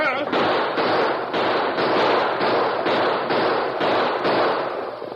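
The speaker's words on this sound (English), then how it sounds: "With a final burst of gunfire" Staged burst of gunfire as a sound effect in an old Western radio drama, a rapid run of sharp, evenly repeating cracks filling the whole stretch at steady loudness, with no voices over it.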